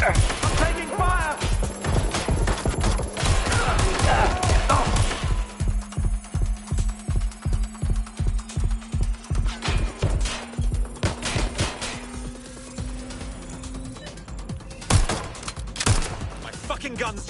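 Rapid rhythmic gunfire in Watch Dogs, a long burst of evenly spaced loud shots through the middle with scattered bursts before and after, over game background noise and a steady tone.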